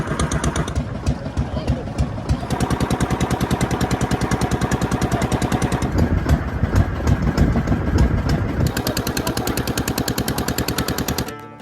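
A motor boat engine chugs in a fast, loud, rapid-fire pulse during a boat ride near the mangroves of Mousuni Island, with voices heard faintly over the engine.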